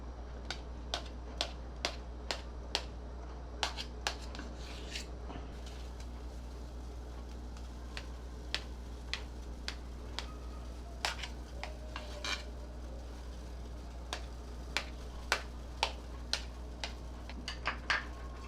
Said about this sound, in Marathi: आता आपण हा ढोकळा कट करून घेऊया